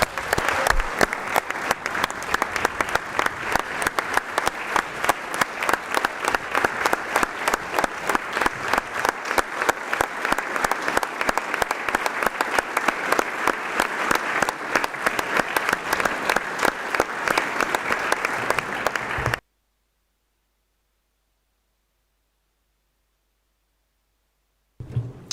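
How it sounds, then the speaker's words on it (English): Sustained applause from the chamber at a Leeds full council meeting, many hands clapping steadily and loudly for about nineteen seconds before stopping abruptly into silence. "And can I ask colleagues to please join me in a huge round of applause for Mr. James Rogers."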